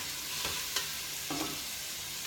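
Food frying in a pan, with a few short sizzling bursts and stirring scrapes over a quiet, steady background hiss; no voices.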